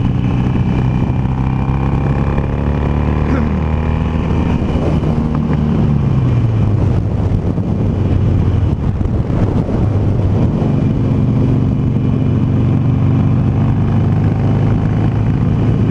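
A Harley Davidson Sportster Roadster motorcycle engine drones steadily while riding, loud and close, its pitch falling and rising through gear changes, with heavy wind buffeting over it.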